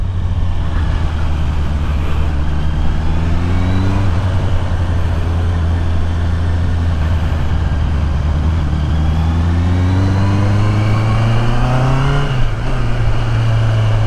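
A Honda CBR650R inline four-cylinder motorcycle engine holds a steady, close idle hum, then revs up smoothly twice and settles back each time, with no voices.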